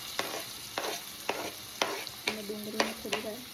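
Spatula strokes scrape and stir onions in a hot pan with oil, cumin seeds, asafoetida and turmeric for an Indian zucchini dish, a series of distinct scraping clicks over a soft background sizzle.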